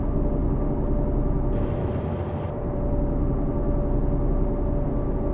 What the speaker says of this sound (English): now you do get a turbo whistle out of it, but it's very low